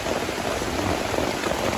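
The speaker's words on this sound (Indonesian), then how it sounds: "hujan mengguyur tiba-tiba tanpa diketahui ya" Heavy, sudden rain pouring down in a bamboo forest at a campsite, a dense and loud steady hiss of drops drumming on surfaces, with no letup.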